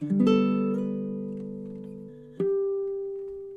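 D: A baritone ukulele plays measure 24 of a song, an opening strum of ringing notes that decays slowly, then a single plucked note sounds and sustains to the end, close and alone.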